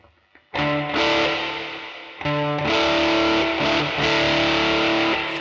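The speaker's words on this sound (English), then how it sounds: "Now let's add in the room reverb." Electric guitar through an Electro Harmonix Holy Stain pedal set to fuzz with room reverb: two loud, thick distorted chords ring out, and the second is struck again with strums, each washing into a roomy reverb tail.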